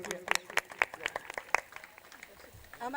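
Scattered clapping from an audience at a katha religious gathering, a few sharp claps spread over a few seconds rather than sustained applause.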